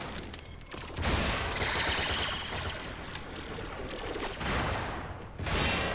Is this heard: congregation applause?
no